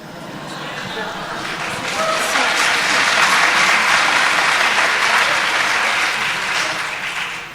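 An audience at an arts summit panel discussion breaks into a dense wash of clapping that swells and peaks midway, then begins to thin toward the end, sounding close and full.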